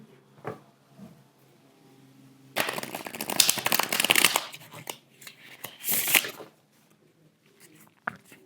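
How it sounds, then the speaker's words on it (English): A tarot card deck being reshuffled by hand, with two soft bursts of riffling and rustling cards, one longer and one brief, in a quiet room with faint handling sounds between them. "Let me just reshuffle my deck so the cards are mixed well."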